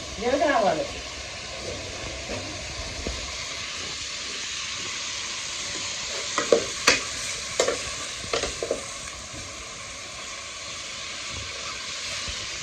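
Onion and green chilli frying in oil, a steady hiss of sizzling that runs throughout, with a few stirring clatters and knocks partway through and a voice speaking at the start.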